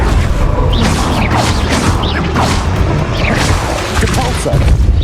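The Confringo blasting spell explodes in Hogwarts Legacy amid dense, loud combat noise, with booming impacts, whooshes and crashes layered continuously through the fight.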